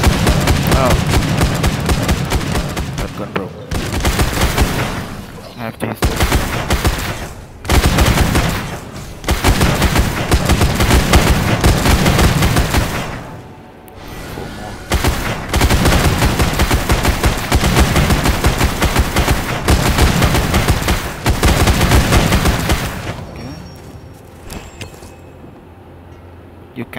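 Gunfire from the video game Dawn of Zombies, heard during an Arena of Possessed event: loud, dense bursts of rapid shots fill most of the stretch, broken by brief pauses and fading out near the end.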